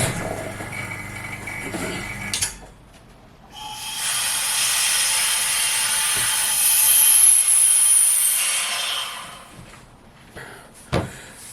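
A vacuum pump for Jesmonite casting hisses steadily for several seconds, a loud airy rush that swells and then cuts off, with brief clunks before and after.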